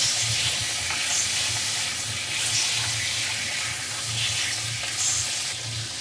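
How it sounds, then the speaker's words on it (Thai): Pasta tossed quickly in a hot pan sizzles steadily, with an even hiss and soft rhythmic scraping and stirring thumps, close and moderately loud. "ผัด ผัดเร็วๆเลยเนาะจ้ะ"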